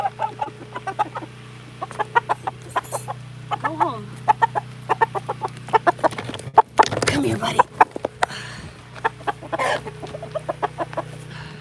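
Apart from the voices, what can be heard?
chicken clucking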